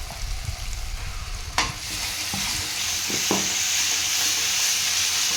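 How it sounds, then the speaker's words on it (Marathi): Prepared masala paste frying with softened onions for a spicy chicken masala, a steady close sizzle with a few scraping stirs of a spoon against the pan. "आता आपण यामध्ये तयार केलेला मसाला घालून घ्यायचा"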